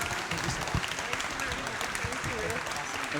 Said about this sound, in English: please, let's give an amazing round of applause to our guest